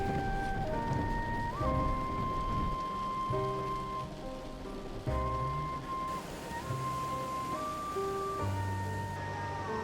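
Heavy rain falls steadily across a mountain valley in Swat, Pakistan, a constant hiss running beneath prominent music throughout.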